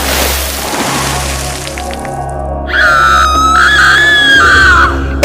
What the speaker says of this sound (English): Everyone screamed